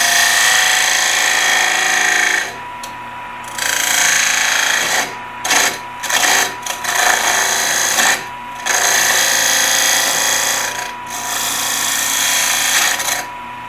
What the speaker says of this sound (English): this is a Harbor Freight lathe that I bought a while back. And then we're going to go ahead and start my center cut here.